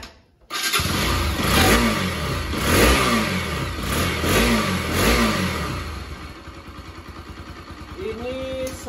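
Yamaha RX King two-stroke motorcycle engine revving up and down in repeated throttle blips, loud and close, then settling to a rougher idle near the end.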